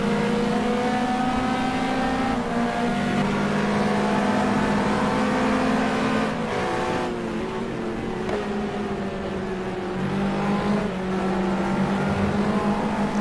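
GT3 race cars at full throttle in a racing video game on the Melbourne circuit, with layered engine whines rising and falling through gear changes as several cars run close together. The sound is loud and continuous, with a brief dip mid-way.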